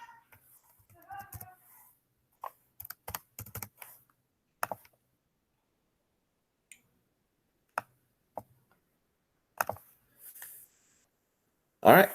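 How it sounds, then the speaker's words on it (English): Computer keyboard typing comes in scattered bursts of clicks separated by quiet gaps, close and fairly soft, with brief speech near the start. "So let me get that typed in."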